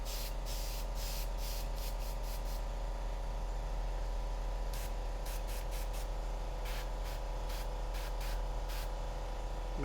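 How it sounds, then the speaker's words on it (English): Airbrush or spray can hisses steadily as paint goes onto a miniature, a continuous close spray with a constant hum beneath and intermittent sharper bursts. "gotta spray it on and see how it looks"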